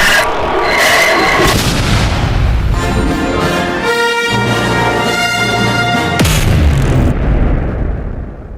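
Star Wars Death Star superlaser firing, a loud sustained sci-fi blast with a rising tonal whine and heavy rumbling booms throughout, ending in an abrupt burst.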